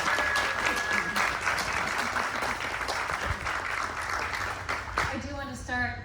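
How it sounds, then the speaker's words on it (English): At an art opening reception for artist Mauro Wieser, an audience claps steadily for several seconds, with murmured voices underneath and a speaker's voice returning as the applause fades. "So let's give him a round of applause."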